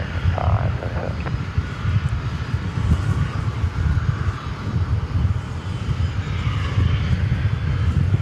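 Fixed-wing airliner taking off from runway 18 left at DFW Airport in the evening, a broad steady engine roar held at constant loudness throughout, with faint tower radio chatter underneath.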